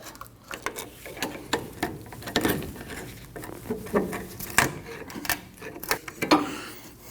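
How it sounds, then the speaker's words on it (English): A 10mm ratchet wrench works a brake caliper bolt loose on the rear brakes of a 2012-2021 Nissan NV2500, with repeated close metallic clicks and clinks coming in short irregular bursts. "take it out with a 10mm ratchet wrench"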